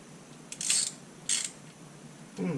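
A socket wrench ratchets while a rear shock bolt is tightened. Two short, faint clicking bursts come close together with quiet pauses between them, and a softer rattle follows at the end.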